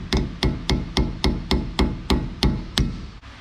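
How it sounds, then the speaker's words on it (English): Hammer striking a cap on a 1972 Dodge Dart during a disc brake conversion: eleven loud, evenly spaced metallic blows about a third of a second apart, close up, each with a short ringing decay and no talking. "Now I'm gonna go ahead and hammer on the cap."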